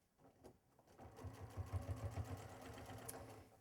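A sewing machine stitches the main seam of a tote bag. The motor whirs with a fast, pulsing rattle that rises after a quiet start, then settles into a steady, close hum.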